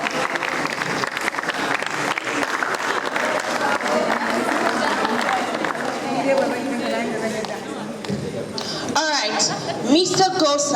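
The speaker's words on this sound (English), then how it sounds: "Keep clapping till she gets on stage." An audience keeps clapping at a university language-training closing ceremony in Abuja as a woman walks to the stage. The applause is steady at first, then thins into crowd chatter and voices toward the end.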